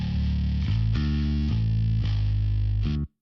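Electric bass played through a Universal Audio Ampeg amp plugin, a distorted, chorused tone with a steady run of low plucked notes and regular attacks, loud and alone before cutting off abruptly.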